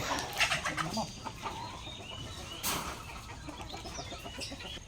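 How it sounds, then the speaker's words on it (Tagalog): Several chickens cluck and murmur nearby in a steady, busy chatter with occasional louder squawks. "Yan na yung mga manok."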